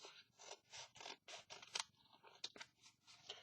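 Scissors snipping through paper for a junk journal page that was just glued down, a steady run of crisp close cuts in quick rhythm, heard alone.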